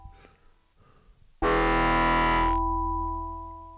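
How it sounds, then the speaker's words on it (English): Nord Micro Modular synthesizer playing a harsh distorted tone that bursts in loudly after a faint bubbling passage, then cuts back to a lingering buzzy hum with sustained pitches. "And we don't know when it's going to become distorted."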